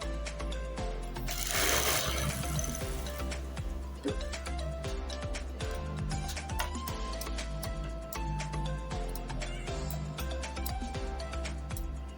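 A sewing machine stitches trouser fabric in a fast, even run of mechanical ticking and whirring that carries on throughout, with one brief louder surge near the start and no voices.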